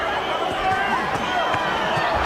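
Arena crowd at a heavyweight boxing match between Wladimir Klitschko and Jameel McCline, a dense steady murmur with scattered whistles and shouts of discontent, loud and continuous with voices mixed in.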